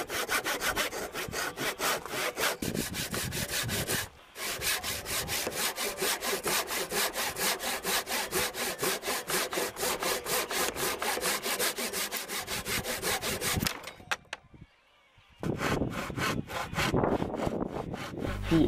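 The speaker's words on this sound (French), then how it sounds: "Je vais ensuite découper l'arrière de la tête." Hand sawing through wood on the back of a Les Paul guitar headstock: steady, rapid, rasping back-and-forth strokes, close and loud, with one brief pause early and another near the end before sawing resumes.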